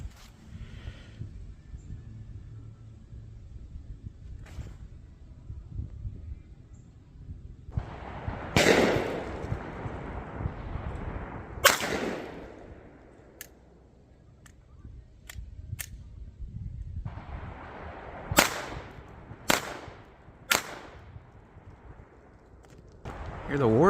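Sharp gunshots from clay shooting at a range ring out a short distance away, several loud cracks spaced irregularly, some in quick pairs, with a steady rustle between them.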